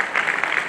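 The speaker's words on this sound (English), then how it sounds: "I request all of you to give him a big round of applause." Applause from a conference audience at a national HR conclave, a brief burst of dense, steady clapping from many hands in a hall.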